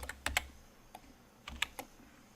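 Several quick keystrokes on a computer keyboard, close and clear, in two short bursts separated by a brief pause.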